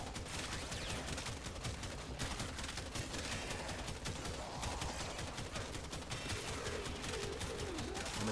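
Ceto primary weapon fire in the Warframe video game, a dense, continuous stream of rapid gunfire shots at steady loudness throughout, with no talking.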